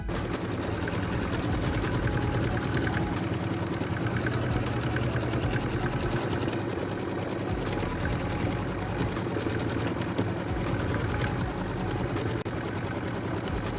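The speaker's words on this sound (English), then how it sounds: "now we get to stitch the beautiful quilting" A sewing machine stitches quilting on a pieced block, its steady mechanical whir running continuously without pause at a fairly even loudness throughout.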